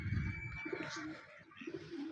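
White pigeons coo softly at a home loft, a low repeated murmuring that runs steadily in the background with no talk over it.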